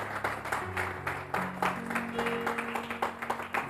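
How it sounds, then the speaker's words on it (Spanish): Church congregation applauding during a Spanish-language sermon, a steady patter of many hands with sustained tones from a keyboard or organ underneath, moderately close. "Dale un aplauso a eso"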